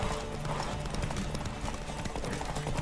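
Rapid, rhythmic hoofbeats of a horse cantering in a Witcher 3: Wild Hunt race, close and constant clip-clop over a bed of game music and ambience throughout.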